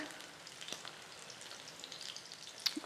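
Tuna fish cakes fry in a pan, a soft, steady sizzle with faint crackles and one brief sharper pop near the end, heard alone.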